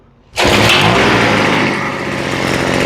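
A Craftsman leaf blower's small two-stroke engine, set on full choke, fires on the first pull and roars straight into a loud, raspy high rev that settles into a steady buzzing run, close to the listener.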